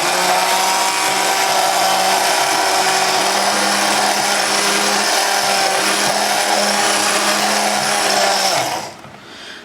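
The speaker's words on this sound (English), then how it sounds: "So I have my immersion blender" Immersion blender whirring steadily as it blends blackberry syrup, a loud, continuous motor drone that holds for about nine seconds before cutting off abruptly near the end.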